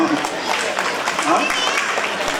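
A crowd claps in a steady, dense patter of applause at a children's certificate ceremony at a district Bal Bhavan, with a voice faintly over it.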